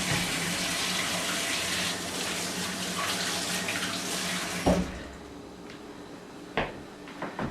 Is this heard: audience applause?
no